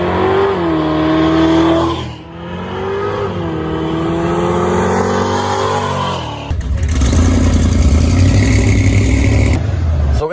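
Chrysler 318 V8 street car with an Edelbrock Performer RPM intake and 750 Holley carburetor at a drag strip test and tune, loud engine revving up through gears, dipping and climbing again before a harsher roar takes over.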